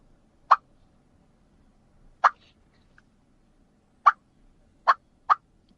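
Imitated turkey hen clucks made with a hand-held turkey call: five short, sharp, isolated clucks spaced irregularly over a few seconds, close and clear against a quiet background.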